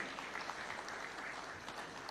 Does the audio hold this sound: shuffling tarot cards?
no